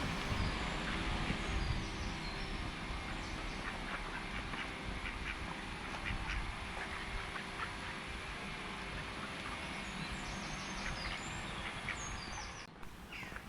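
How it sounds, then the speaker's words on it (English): Ducks quack now and then amid steady outdoor park background noise, fairly distant and soft, with a low rumble underneath throughout. "past these ducks."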